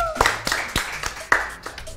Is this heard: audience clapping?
yes